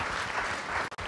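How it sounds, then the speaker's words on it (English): Audience at a startup festival session breaks into a short round of dense, steady applause that cuts off sharply for an instant near the end before resuming. "So let's give him another big round of applause"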